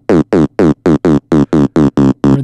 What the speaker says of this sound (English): I can add a pitch envelope,